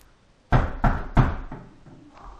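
Three firm knocks land on a wooden door close by, spaced evenly, followed by a couple of fainter taps as the sound fades.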